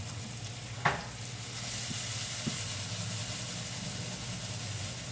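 Food fries in oil in a pan with an even, sustained sizzle close by. A sharp utensil tap sounds early, and a couple of softer knocks follow later.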